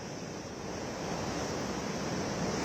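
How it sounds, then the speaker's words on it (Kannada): Large sea waves crash on the Ullal shore during heavy monsoon rains, a steady, loud roar of surf that builds slightly over a few seconds, with no voices. "ದಡಕ್ಕೆ ಭಾರೀ ಗಾತ್ರದ ಅಲೆಗಳು ಬಂದು ಅಪ್ಪಳಿಸ್ತಾ ಇದೆ"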